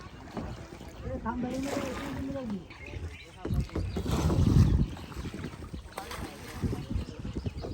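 A small fishing boat moves across the Meghna river with soft wash, splashing and wind buffeting the microphone, while people talk nearby throughout.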